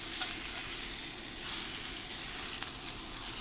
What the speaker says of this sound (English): And now I'm going to flip it over.